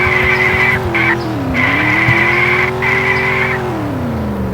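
Loud, sustained tire squeal from a car doing donuts in a driving video game, a Chevrolet Corvette C6 or Subaru WRX STI S209, over steady engine drone with brief breaks in the screech.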